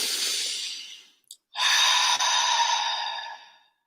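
Two long, slow breaths are drawn and released close to the ear, each a breathy rush of air, split by a brief pause with a tiny click.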